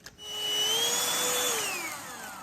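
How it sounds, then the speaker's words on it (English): A handheld Dust Buster vacuum cleaner whines steadily close by, its motor pitch rising as it spins up and then slowly sagging, running alone without talk. "I picked it up with my handy dandy dust buster."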